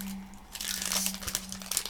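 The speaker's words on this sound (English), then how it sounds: "you open a pack of paper" A pack of photo paper for a Sprocket printer is torn open by hand, giving a close burst of plastic crinkling and crackling over a steady low hum.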